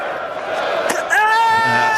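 Cricket stadium crowd roaring and cheering after a missed ball in a Test match, a broad dense swell of many voices with a sharp rise in noise near the end, continuous throughout.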